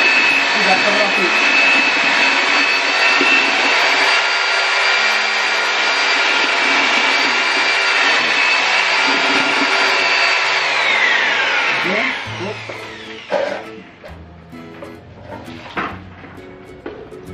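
A mixing machine churns Nobel NM200 instant plaster mortar with a loud, steady whine for about twelve seconds, then cuts off, leaving scraping and clunking noises.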